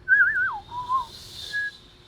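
A person whistles a clear, wavering melody at close range, with sliding pitch bends and a short held note near the end, alone with no talk over it.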